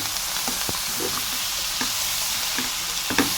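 Chopped coriander and amaranth greens sizzle in a hot pan, with a spoon scraping and stirring through them in a few distinct strokes over a constant frying hiss.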